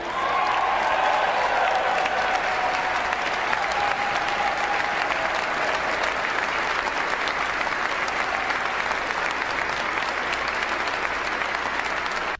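A large crowd applauding a political speech about energy, dense sustained clapping mixed with cheers and whistles that stays loud and even from start to finish.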